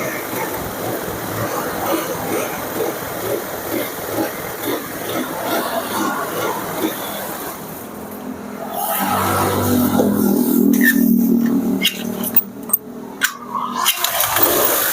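A carbureted Honda Vario scooter with a troubled engine runs unevenly close by, first a softer patter, then a louder throatier stretch with a few sharp knocks toward the end.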